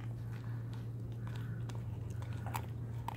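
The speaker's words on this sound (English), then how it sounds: "she's able to eat through that fish quite a bit faster than he is." A bulldog puppy chews and crunches through a whole raw fish down to the head, giving close, irregular wet bites and crunches over a steady low hum.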